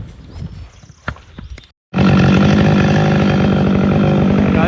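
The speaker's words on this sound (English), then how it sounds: "I'm gonna grab my saw and we'll start dumping them over" A chainsaw fires up loud and close after scattered handling clatter and a brief pause, then runs at a steady high roar while felling dead cedar trees.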